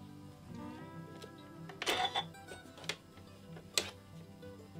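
A sewing machine stitches down the edge of a reusable fabric face mask, giving soft mechanical whirring with several sharper clacks and bursts, fairly quiet and close up.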